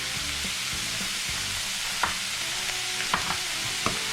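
A spoon stirs a Sloppy Joe mixture in a pan, seasoned with vinegar, salt and pepper, giving soft scraping strokes and a few sharper clicks over a faint, steady sizzle, with no talking.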